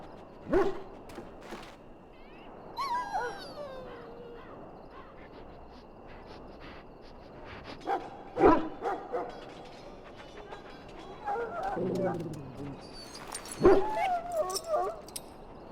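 A dog in the video game Dragon Age: Origins whimpers and gives a few scattered yips over the game's ambient sound, with brief speech-like passages between them.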